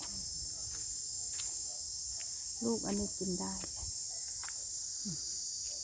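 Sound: cicadas chirping on a mountain

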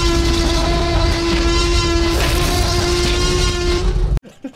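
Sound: train in the video game Little Nightmares

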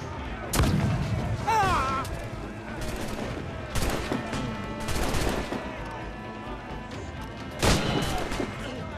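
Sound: ship cannon fire in the video game Assassin's Creed IV: Black Flag

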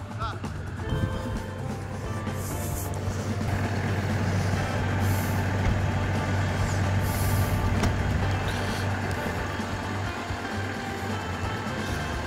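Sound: Dodge Ram pickup truck driving off-road over a hill

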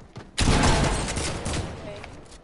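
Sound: gunfire from a video game

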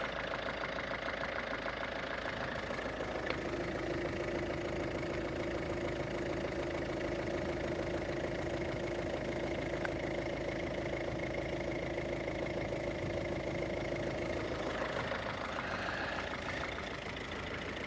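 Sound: diesel car engine idling

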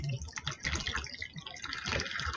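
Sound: water poured over a model house to imitate rain

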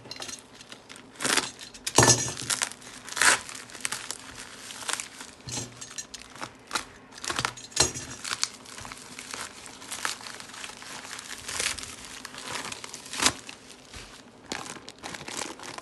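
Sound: opening a returned cargo parcel

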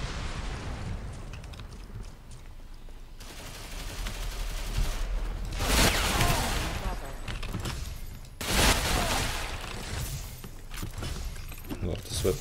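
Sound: AK-200 rifle gunfire in a video game

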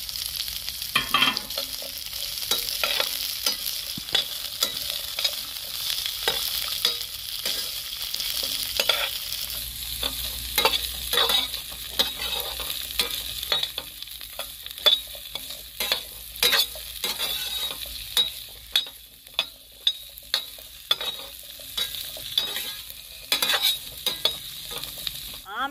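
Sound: amla and green chilies roasting in a pan

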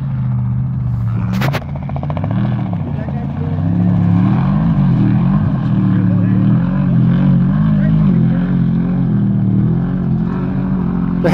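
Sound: helicopter flying overhead

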